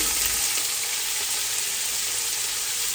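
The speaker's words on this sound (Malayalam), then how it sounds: "അതിലേക്ക് നമ്മൾ നീളത്തിൽ അരിഞ്ഞ് വെച്ചിട്ടുള്ള സവാള ഇട്ട് കൊടുക്കാം" Long-sliced onions with salt hiss loudly in hot oil and ghee in a biryani pot for a Thalassery-style beef dum biryani, a dense, constant close sizzle with no pauses.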